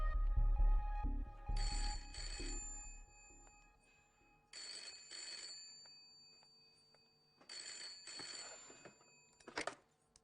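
An old-fashioned telephone bell rings in three or four bursts separated by pauses, moderately close, with a low rumble at the start and no speech.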